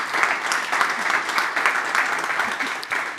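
Steady applause from an audience at a livestreamed logistics real-estate conference day, a dense wash of many hands clapping that holds at an even level throughout with no voices on top.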